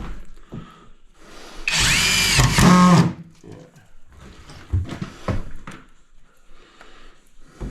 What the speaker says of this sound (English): The drill bit doesn't like the screws.